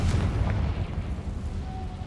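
A deep booming explosion from a Confringo fire spell in the video game Hogwarts Legacy, a loud low rumble that fills the whole moment and slowly fades, without speech over it.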